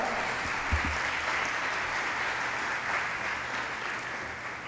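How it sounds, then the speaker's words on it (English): A conference audience in Calgary applauds steadily for the full length, with dense, even clapping from many hands in a large hall and no talk over it. "Please give him a big round of applause."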